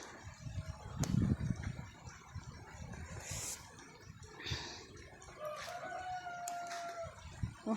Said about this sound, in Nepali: कुखुराको भालेहरू बासिया छ गाउँमा